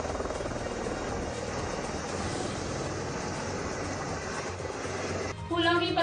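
A helicopter carrying the groom's brothers arrives at a wedding procession in Mandi Bhavdi, its rotor making a steady, loud, broadband thrumming throughout, with a brief shift in the noise near the end.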